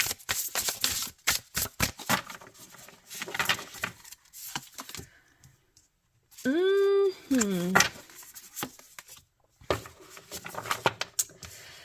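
Tarot cards are shuffled in quick bursts of crisp flicking and riffling patter, close and fairly quiet, broken up by pauses and a brief high vocal sound partway through.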